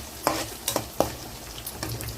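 Cabbage frying in oil with curry leaves, stirred in a pan: a low sizzle broken by several distinct scraping stir strokes at an uneven rhythm, close and fairly quiet, with no voices.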